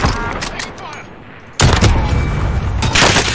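Video game gunfire rings out in a multiplayer battle royale match: a few sharp shots and faint bursts, then a loud booming volley about halfway through that carries on as rapid, near fire.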